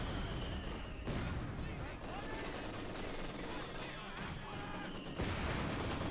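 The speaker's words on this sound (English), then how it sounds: "Mortar fire there." Battlefield gunfire and explosions from Company of Heroes 2, a real-time strategy game, with mortar fire among a dense, steady barrage of shots and blasts, a commentator's voice running over the top.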